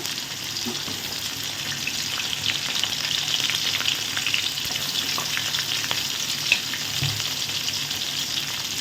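Onion, green chili and garlic frying in a pan for a spicy drumstick and potato kara kuzhambu, a steady close sizzle with occasional stirring scrapes and small pops, no talking.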